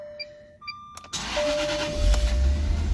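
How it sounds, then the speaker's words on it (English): A Jaguar car being started: a few ignition chimes and clicks, then the engine cranks briefly and catches into a loud, close running rumble. "key into the ignition, crank it on"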